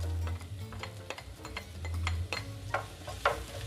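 Minced garlic is dropped into ginger frying in oil in a pan, giving a quiet, steady sizzle with light scraping and ticking stirs of a spatula.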